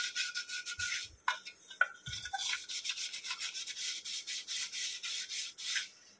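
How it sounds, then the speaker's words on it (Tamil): A brush scrubs the inside of a brass uruli vessel in quick, rhythmic back-and-forth strokes, close and crisp, with a couple of brief knocks partway through. "இது போல் ப்ரஷ் வச்சு தேய்ங்க"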